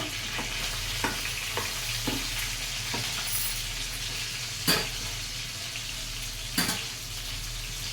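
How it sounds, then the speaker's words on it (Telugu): Fish fries in a pan with a steady, dense hiss of hot oil, broken by a few light clinks of a utensil, near and continuous with no voices. "ఇప్పుడు ఫిష్ ఫ్రై చూద్దాము"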